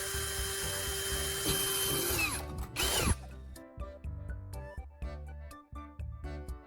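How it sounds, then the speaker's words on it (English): A power drill bores holes into a tuna can, its high whine running for about three seconds with a rising, straining pitch before cutting off, followed by music. "Next, I'm drilling the 3 outer holes I marked earlier."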